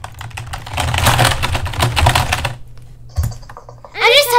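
Computer keyboard typing during a Roblox gaming session, a quick burst of clicky keystrokes lasting a couple of seconds under a steady low hum, followed by a short pause and then a voice.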